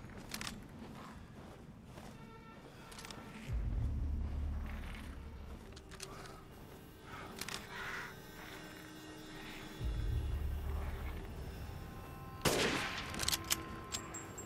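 Sniper rifle shots from Resident Evil Village boom at intervals, joined by heavy low thuds and a burst of sharp cracks near the end, all over a dense game ambience with no voices.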